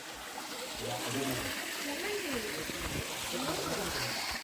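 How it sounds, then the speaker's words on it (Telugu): A small waterfall spills over rocks at Veyyilinga Kona near Srikalahasti, giving a steady close rush and splash of water with faint voices in the background. "చిన్న వాటర్ ఫాల్స్, చాలా అద్భుతంగా పారుతుంది ఇక్కడ"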